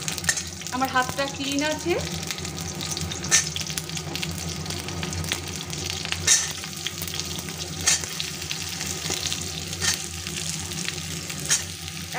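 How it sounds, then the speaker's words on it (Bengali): Vegetables and a fish head sizzle in a hot kadai for a rustic, low-oil Bengali village dish, a steady crackling fry with occasional sharper spits and stirring clatter, while someone talks briefly near the start. "দেখো অলরেডি আমার কড়াইটা গরম হয়ে গেছে। আমি কিন্তু একে একে এই সবজিগুলো কিন্তু দিয়ে দেব।"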